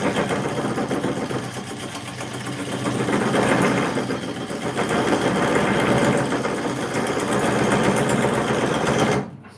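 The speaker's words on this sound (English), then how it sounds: "that vibration is never good because it loosens up the chuck" A spinning machine's chuck vibrates under a workpiece, giving a loud, continuous buzzing, rattling mechanical drone that swells and holds for about nine seconds before cutting off.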